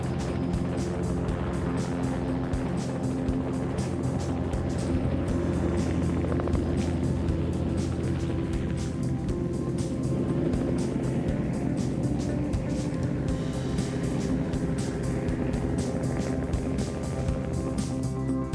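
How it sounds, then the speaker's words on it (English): A helicopter's rotor and engine roar steadily for the whole stretch, a constant mechanical drone with a faint rhythmic chop, as it lifts the engineless Dream Chaser spacecraft. "awaiting a lift from a chopper"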